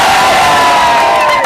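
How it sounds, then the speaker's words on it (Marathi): Loud crowd of party workers cheering and shouting after a local election victory in Sonpeth, a dense roaring wall of voices with whoops, close and continuous. "कार्यकर्ते मोठ्या प्रमाणात जल्लोष करलेले पाहायला मिळत आहेत आपल्याला"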